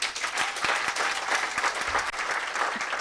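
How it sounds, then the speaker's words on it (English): A conference audience claps for itself at a climate justice summer school in Nairobi, producing steady, dense applause that holds throughout, with sharp individual claps standing out near and no talking. "So clap for yourselves again"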